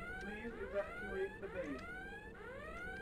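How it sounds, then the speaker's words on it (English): An alarm in the audio game Shades of Doom sounds as repeated rising electronic sweeps, about three cycles, moderately loud and placed off to one side within the game's soundscape. "then you can hear that alarm sort of off to the left"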